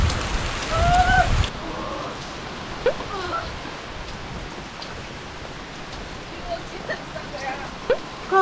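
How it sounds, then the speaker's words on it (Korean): A rainstorm pours down as a strong gust of wind buffets loudly at the start, then rain patters on steadily with brief bumps while people talk and exclaim over it. "바람이 막 행방없이 부니까"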